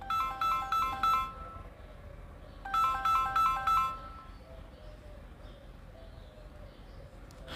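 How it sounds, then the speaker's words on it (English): A phone ringtone chirps in two bursts of rapid repeated electronic trills, fairly loud over quiet room noise, then stops. "Is that a ringtone?"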